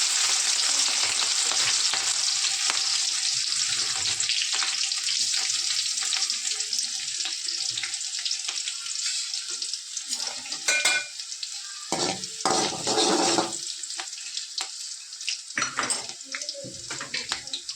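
Finely chopped green chillies hit hot oil with toasted cumin in a pan, a loud continuous sizzle and crackle that settles slightly over time, mixed with the clink and scrape of a spoon stirring against the pan.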